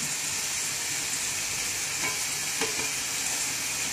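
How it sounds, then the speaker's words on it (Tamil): Tomatoes frying in a pan for a Tamil Nadu fish curry, a loud continuous sizzle and hiss with faint stirring scrapes near the end, no talk. "இப்போ பார்த்தீங்கன்னா தக்காளி நல்லா வதங்கிடுச்சு."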